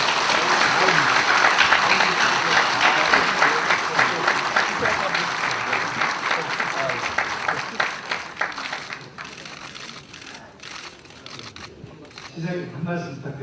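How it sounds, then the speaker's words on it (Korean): An audience at a ceremony gives applause of encouragement, loud and dense at first, then thinning into scattered claps before a voice speaks near the end. "격려의 박수 부탁드립니다."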